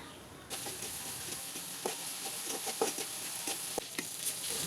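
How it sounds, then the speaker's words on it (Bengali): Whole spices such as cinnamon, bay leaf, cloves and cardamom fry with onion paste in a pan for chicken biryani, a steady close sizzle with scattered stirring scrapes and clicks, no voices. "পেঁয়াজ বাটা দিয়ে মশলাগুলো ভালো মতো কষাইতে হবে"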